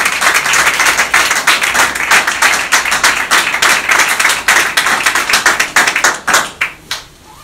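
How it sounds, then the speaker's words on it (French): A church congregation claps loudly and fast for the Lord, a dense rapid patter of many hands that keeps going and then thins out into a few scattered claps at the end. "On acclame très fort pour le Seigneur"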